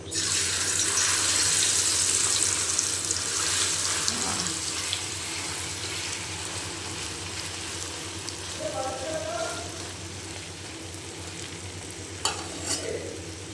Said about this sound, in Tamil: இப்போ எண்ணெய் கொதிச்சுட்டு மீன் போட்டுக்கலாம்.